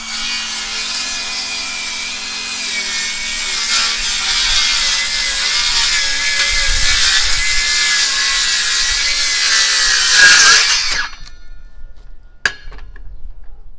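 A Flex 24-volt in-line 6.5-inch circular saw cutting through 2-inch-thick LVL, a loud sustained whining blade cut lasting about ten seconds, then the motor winding down, followed by a single clunk.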